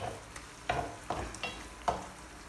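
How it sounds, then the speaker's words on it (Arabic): Eggplant stuffed with sea date filling sautéing in a pan, with soft sizzling and a few stirring scrapes and knocks at irregular moments, close and fairly quiet. "هي تشحر مزيان"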